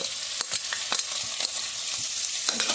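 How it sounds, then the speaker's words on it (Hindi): Garlic and chili fry and get stirred in a pan, a close sizzle broken by quick scraping stir strokes at an uneven rhythm, with no voices. "लहसुन, मिर्ची"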